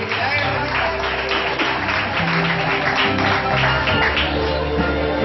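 Steady applause for a young graduate at a 2013 graduation ceremony at Complejo Las Isletas, dense and continuous throughout, with a background music bed and crowd murmur beneath the clapping.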